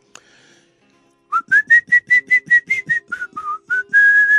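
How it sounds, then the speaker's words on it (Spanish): Someone whistles a catchy little tune alone, a run of about a dozen short, clear notes in a bouncy rhythm that rise, dip and end on a longer held note. "Entonces andaba Sócrates por ahí por las calles silbando una cancioncita muy pegajosa."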